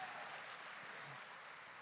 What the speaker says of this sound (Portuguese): Aplaude mais forte se você acredita nisso